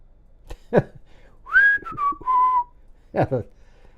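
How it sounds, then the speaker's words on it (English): A person whistles a short, clear, rising-then-falling tune up close, with brief breathy sounds before and after. "that whistle was louder than the train whistle next to my home"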